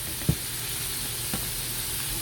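Bay leaf, rosemary, thyme and green onion hit hot fat in a pot for a Louisiana courtbouillon, giving a steady close sizzle with two brief louder pops or stirs, no talk.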